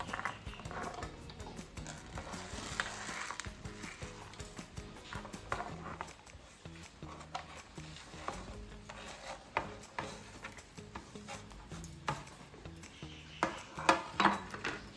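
Raw spices, garlic cloves and royal cumin being ground into a paste for mutton shahi korma, with irregular knocking, rubbing and clacking strokes, close and fairly quiet, growing sharper toward the end.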